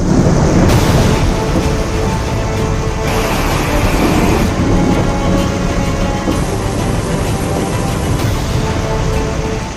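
Torrential monsoon downpour during the Uttarakhand floods, a loud, steady broadband roar of rain with rumbling low-end swells suggesting thunder, continuous throughout with no voices.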